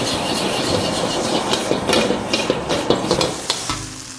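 Fish sauce poured around the edge of a hot pan of Hong Kong-style fried rice, sizzling steadily with stirring scrapes and small clatters throughout, fairly loud and close with no talk.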